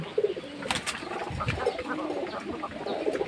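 Pigeons in their loft feed on rice at midday, giving close, soft coos and scattered light pecks and shuffles under a faint wash of wind, with no talking.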